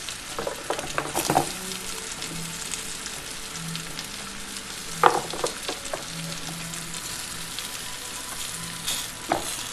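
A pot of sauerbraten keeps seething after the heat is switched off, a steady close sizzle and bubbling hiss with occasional clinks and stirring scrapes over it.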